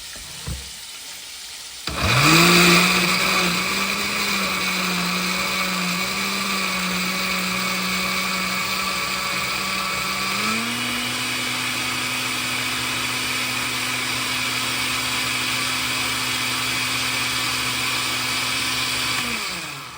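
Blender whirring as it mixes red chili sauce with a little water: the motor kicks in after a brief quiet moment, then hums steadily and loudly. Its pitch steps up partway through and it winds down at the very end.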